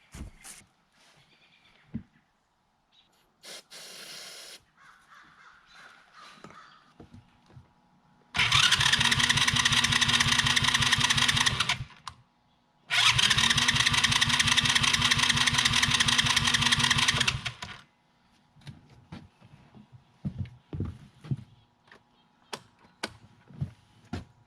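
A Tao Tao 110cc Chinese ATV engine is cranked by its starter in two loud, rapid chugging bursts of several seconds each, with no firing, separated by a short pause and surrounded by quiet shop clatter.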